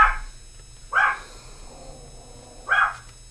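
A dog barks three times outdoors in winter, sharp single barks spaced about a second or more apart, moderately close, with no talking.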